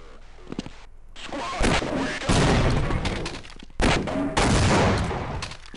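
Turret gunfire in the Half-Life video game, dense rapid bursts of loud shots in several volleys separated by brief gaps, with a man exclaiming over them.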